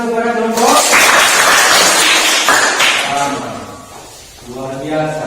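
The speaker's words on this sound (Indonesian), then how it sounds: "kita berikan tepuk tangan kepada kelompok." A classroom applauds a student group with a burst of crisp, close clapping lasting a few seconds, framed by a voice speaking before and after.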